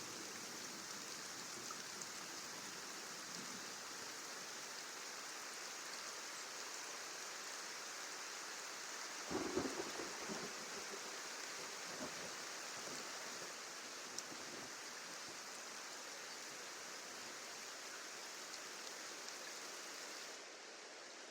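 Rain and thunder in the video game Kenshi: a continuous hiss of heavy rain runs throughout, and about halfway through a brief rumbling crack of thunder rises above it, with no speech.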